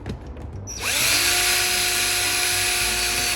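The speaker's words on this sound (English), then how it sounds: "Full drill power, and I'm gonna push this window over as far as I can." A power drill spins up to full speed near a window while boring a hole for a window air conditioner install, a loud steady high whine after a few faint taps and clicks.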